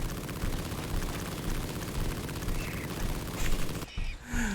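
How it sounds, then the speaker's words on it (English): Explosions in the sci-fi video game The Riftbreaker, a dense, loud rumbling barrage of blasts and crackling bursts that cuts off abruptly near the end into quieter game sounds. "Those particle effects and grass explosions are cool."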